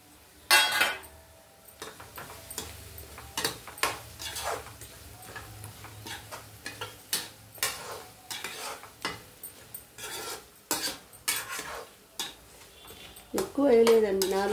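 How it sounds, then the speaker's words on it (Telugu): Drumstick pieces are dropped into a pan of mango and tomato curry, with a run of clattering knocks and scrapes of utensils against the pan, close and moderately loud, and a brief voice near the end. "ఈ ములక్కాడ ముక్కలు కూడా వేసేస్తానండి."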